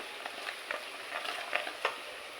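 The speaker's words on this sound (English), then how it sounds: "Frying the spices briefly in oil helps release their aroma" Paprika and star anise frying briefly in hot oil give a steady, close sizzle with soft stirring scrapes running throughout, and no voices.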